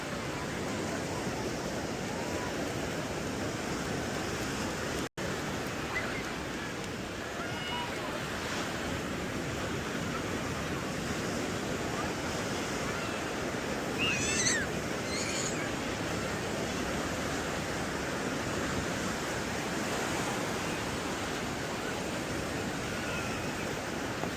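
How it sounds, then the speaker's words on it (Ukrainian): Atlantic ocean surf breaks on a Moroccan beach, a loud continuous roar of crashing waves mixed with wind buffeting the microphone. "Подивіться, такі хвилі, вони збивають з ніг."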